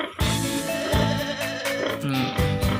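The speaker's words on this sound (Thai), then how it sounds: "ก็จะมีเสียงแพะรบกวนแหน่นิดนึงนะคะ" Goats bleat close by inside a goat shed, overlapping wavering calls filling a short, busy stretch.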